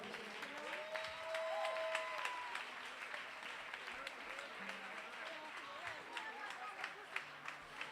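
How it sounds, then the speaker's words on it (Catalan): A crowd at a ceremony gives a strong round of applause for the CIT Invia team, steady clapping throughout with a few sharper claps standing out and voices murmuring underneath. "Un fort aplaudiment, sense CIT Invia aquest acte no seria possible."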